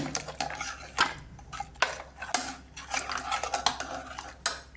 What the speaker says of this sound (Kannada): ಈಗ ಇದನ್ನು ಸೌಟಿಂದ ಸ್ವಲ್ಪ ಸ್ಮ್ಯಾಶ್ ಮಾಡ್ಕೊಳ್ಳಿ.